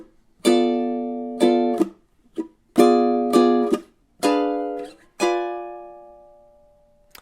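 A pair of blues measures on ukulele: a steady series of seven or so plucked chords in rhythmic bursts, some clipped short and the last left to ring and fade, solo with no talking.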